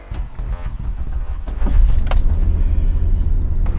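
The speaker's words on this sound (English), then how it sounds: "A little rough start there" An Oldsmobile Bravada SUV starts roughly, with keys jangling first and then a loud, steady, low engine rumble that swells partway through and keeps running close by.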